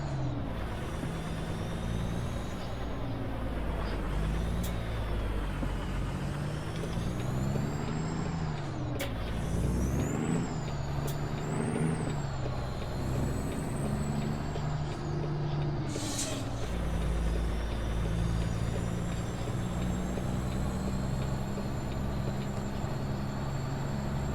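A heavy semi truck in American Truck Simulator, hauling a special-transport load of tires, idles with a loud, continuous engine drone, gives sharp hisses of air brakes, and revs and shifts as it pulls away.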